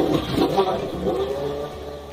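Game engine sound of an F1 race car from a Minecraft PE 1.19 addon, a steady droning hum that carries through the short stretch with small wavering bumps and no pause.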